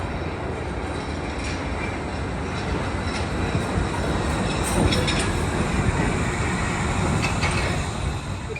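A Wuppertal Schwebebahn suspension monorail train at a station, giving a steady, loud mechanical rumble with faint higher squeals and clanks throughout, no talking.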